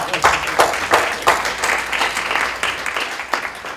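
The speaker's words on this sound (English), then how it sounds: "let's give her another round of applause" A round of applause at a literacy summit, heard as close, loud clapping from a crowd, dense and steady with a few sharper claps standing out before it begins to fade.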